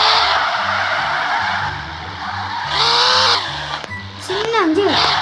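Car drifting in the video game Car Simulator 2, tyres squealing and skidding in long loud bursts over a steady engine drone, with someone talking throughout.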